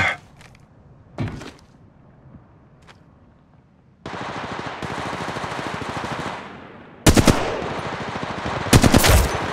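Volt SMG submachine gun fire in a video game, loud, sharp automatic bursts near the start and again toward the end, with a sustained noisy stretch between them and quieter gaps around them.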